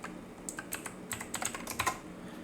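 Code is typed on a computer keyboard in quiet, uneven bursts of close key clicks, a few quick strokes at a time, with no talking.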